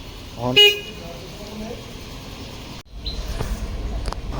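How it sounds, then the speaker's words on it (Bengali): A Massey Ferguson 254 Dynatrack 4WD tractor horn gives a single short, bright toot near the start. A clunk follows, then a low, steady rumble. "আর এটা হচ্ছে হর্ন এই হর্ন দেখতে পাচ্ছেন"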